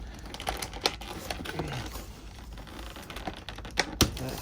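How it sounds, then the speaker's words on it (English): Zip ties on a Kylo Ren toy package being snipped, with a few sharp, close clicks and snaps spaced irregularly over a faint background rustle of the packaging. "Start cutting zip ties here."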